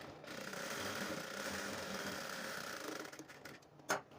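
A sewing machine stitches a blouse: a soft, steady mechanical whirring runs close and fairly faint for about four seconds and ends in a sharp click, with no talk.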